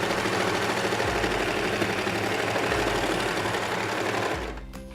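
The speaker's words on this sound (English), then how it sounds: "go ahead and start serging, and then go right along this edge to create a loop" A serger overlock sewing machine runs steadily while stitching along a fabric edge for a leggings waistband, giving a loud, continuous fast mechanical whir that cuts off just before the end.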